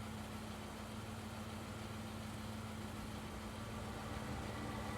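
A bus engine idles in the video game Everlasting Summer, a steady low droning rumble with a constant hum that holds unchanged throughout, with no voices.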